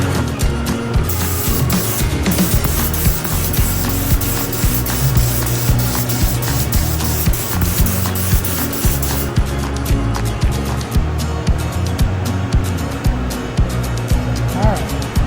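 A spray gun lays clear coat on a junkyard Porsche, sending out loud bursts of hissing spray in repeated passes, with talking partly mixed in.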